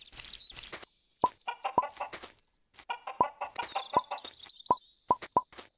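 Chickens in a farming video game cluck close by in busy, irregular bursts, with sharp plopping pecks sounding at intervals between the calls.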